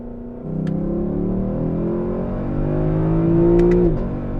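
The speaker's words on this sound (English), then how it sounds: "the induction sound of the 5-liter naturally aspirated V8" A 5-liter naturally aspirated V8 engine of a 2024 Lexus LC500 revs up close, its deep induction roar rising steadily in pitch before cutting off sharply, with a couple of faint clicks.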